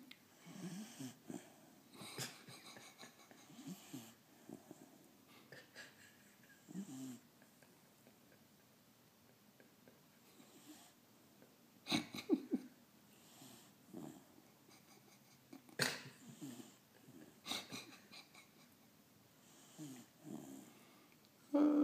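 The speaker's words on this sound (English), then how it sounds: "you snoring like an old man" Person snoring, repeated rough breathy snores at irregular intervals, close by and fairly quiet, with near-silence between them.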